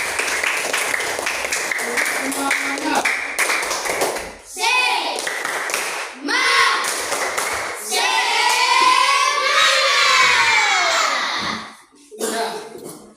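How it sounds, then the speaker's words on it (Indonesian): Group of children clapping hands during a physical education lesson on passing in a game, bursts of clapping mixed with children's voices and a teacher speaking, loud and close. "Ya, sekarang kita semua tepuk tangan"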